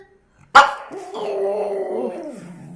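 A person imitates a dog barking: one sharp, loud bark up close, then a drawn-out, wavering whine-like howl trailing off.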